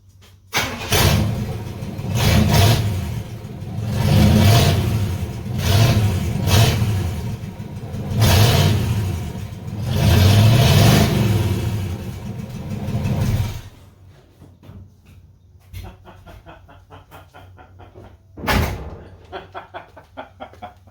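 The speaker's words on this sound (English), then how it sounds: "I got to know what it sounds like open exhaust." A loud, rough car engine with an open exhaust revs repeatedly in throaty surges for over ten seconds, then cuts off, leaving a quiet tail with a sharp thump and faint voices.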